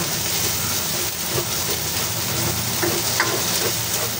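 Onion sizzling and frying in a pan with garlic and ginger, a steady close hiss with faint stirring scrapes throughout.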